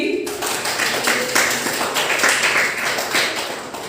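A classroom of middle-school students claps for quiz team B during an English literature week quiz, a dense, steady burst of many hands that starts after a brief pause and continues throughout.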